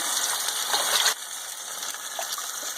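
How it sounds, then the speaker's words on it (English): Water pours into a pot of simmering passata tomato sauce as a broad, steady gush that is loud at the start and drops to a softer trickle partway through, with no voices. "And I'm putting in some water right now."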